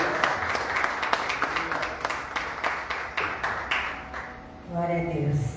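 A church congregation claps in worship, with distinct rhythmic claps near the start that thin out as a voice and sustained musical tones, likely keyboard, come in toward the end.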